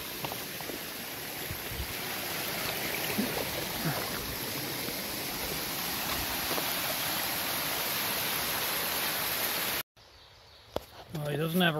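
A water source beside a hiking trail in Vermont, running water rushing steadily and loudly as a broad continuous wash, breaking off abruptly near the end into quieter outdoor sounds and a brief voice.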